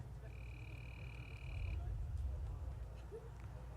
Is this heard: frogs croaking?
yes